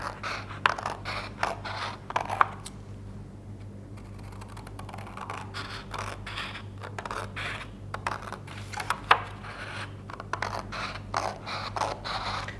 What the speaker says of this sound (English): I'm just going to cut along the length of the cards